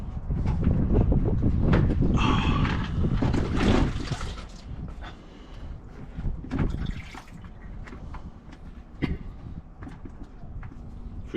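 Water spraying and splashing from a leaking hose pipe, loud bursts early that ease into a softer, uneven trickle and spatter with a few sharp drips and knocks, close by.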